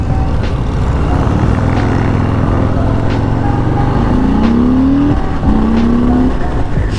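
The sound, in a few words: 2021 Harley Davidson Sport Glide motorcycle accelerating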